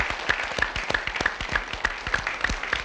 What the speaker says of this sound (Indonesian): penonton di studio kita berikan tepuk tangan untuk Dewan Juri